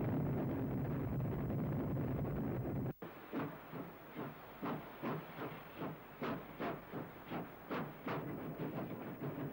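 A steam freight locomotive on a Great Western line working hard, with a steady hiss at first, then a sharp break and a run of rhythmic, evenly spaced exhaust chuffs close by.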